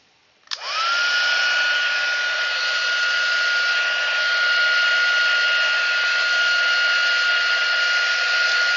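Heat tool drying paint on a craft project, switching on abruptly and then holding a loud, steady whirring blow with a constant tone for several seconds, close by and alone.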